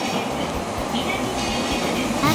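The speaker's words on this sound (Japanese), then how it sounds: "伊勢原までこの電車に乗ります。" Odakyu local stopping train running on rails near Shinjuku, a steady close rumble of wheels and carriage noise with faint rhythmic clatter, heard from inside the car.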